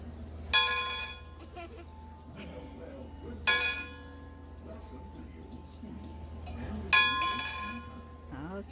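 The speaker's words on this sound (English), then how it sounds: "And then Trinity wants to ring this loud bell." A loud bell rings three times at a slow, even pace, each strike bright and resonant, fading between strokes with faint voices in the background, in St. Augustine, Florida.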